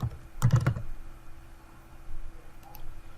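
Computer keyboard typing while an item name is entered in QuickBooks point-of-sale software: a quick burst of several close key clicks near the start, then faint room hum.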